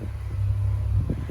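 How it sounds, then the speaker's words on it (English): A 2015 Lexus RC350 F-Sport with all-wheel drive and an upgraded exhaust idles with a steady, deep low rumble up close, rising slightly toward the end. "It does have an upgraded exhaust system."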